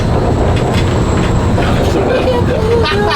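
Riding aboard the Disneyland monorail: a steady, loud rolling rumble and hum of the train in motion, filling the entire moment without letup, with no clear talk.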